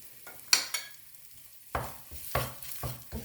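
Spicy curry with shrimp being stir-fried in a pan, heard as bursts of sizzling and scraping stirs with a spatula, spaced irregularly with quieter pauses between them and no talking.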